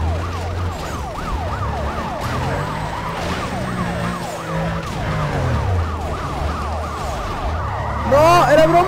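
Police car sirens wail in a chase in the video game Need for Speed: Most Wanted, several overlapping sweeping tones running steadily over low engine rumble and music, with a sharper, louder siren burst at the end.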